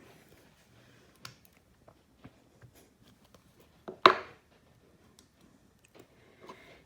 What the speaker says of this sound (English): And then you just go ahead and cut it out.